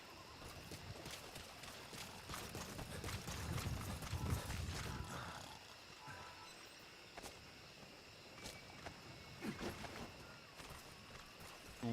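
Hooves of D-Horse clip-clopping in Metal Gear Solid 5, a steady walking rhythm with mechanical game sounds, fairly faint.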